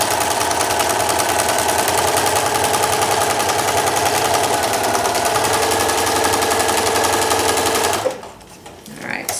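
Sewing machine fitted with a walking foot quilting thick layers of fabric for an oven mitt, a loud, fast, steady mechanical chatter running continuously for eight seconds before stopping abruptly.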